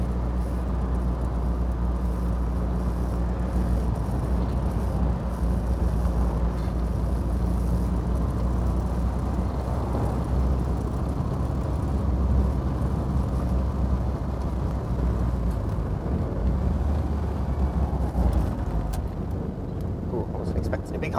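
Steady engine and road drone from a 1972 Triumph Spitfire MkIV 1300 being driven on a country road, a constant low rumble with wind noise throughout, under occasional talk.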